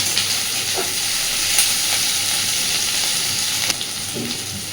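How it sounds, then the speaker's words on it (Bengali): Onion, capsicum and green chillies fry in a pan with a steady, dense sizzle that holds for the whole stretch. A few faint clinks come through the hiss. "পেঁয়াজ, ক্যাপসিকাম, কাঁচা লঙ্কাগুলোকে মোটামুটি একদম লালচে করে ভাজবো না, মোটামুটি একটু স্বচ্ছ হওয়া পর্যন্ত ভেজে নেব"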